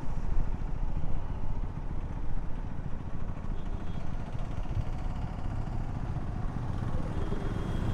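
A KTM Duke 390 motorcycle rolls through a busy toll gate, its engine a steady, even drone blended with constant wind rush and no clear speech.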